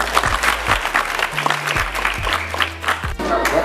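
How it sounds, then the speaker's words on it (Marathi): A crowd at a village school sports competition claps loudly and continuously for the winner of a girls' lemon-and-spoon race semifinal, with voices faintly mixed in. "त्यासाठी सर्वांनी टाळ्या वाजवा."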